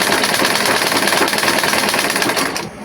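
A sewing machine runs steadily at close range, its loud, continuous mechanical whir holding for a few seconds before easing off at the end, with no voices.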